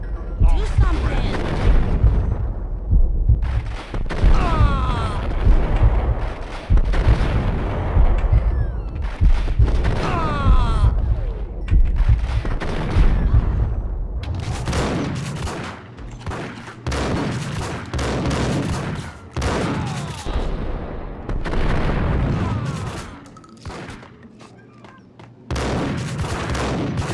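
Loud, repeated gunfire and booming blasts from a Max Payne shootout, dense bursts stretching across the scene with voices talking between and under the shots.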